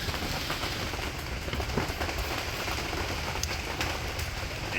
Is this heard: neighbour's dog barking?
no